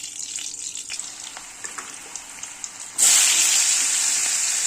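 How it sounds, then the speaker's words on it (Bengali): Potatoes frying in refined oil in a hot wok: a quieter patch of small scattered crackles for about three seconds, then a sudden loud, steady sizzle that holds to the end. "আলুটা ভালো করে ভেজে নেব"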